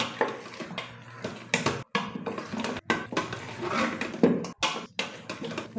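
Mutton and potatoes are stirred and sautéed in a pan for a spicy Bengali mutton curry, with repeated close scraping and clattering strokes separated by brief pauses.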